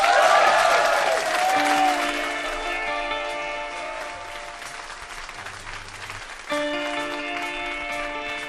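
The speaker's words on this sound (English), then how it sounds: "Please give a huge round of applause for one more time." Applause from a live studio audience for a band rolls on under a sustained musical chord, fading slightly before a fresh swell of clapping near the end.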